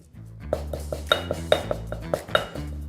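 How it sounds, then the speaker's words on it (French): Gaeng Som curry paste with black pepper pounded in a mortar, close and fairly loud, with about a dozen sharp knocks landing in an uneven rhythm over a low hum. "Commençons par piler la pâte de Gaeng Som avec beaucoup de poivre noir."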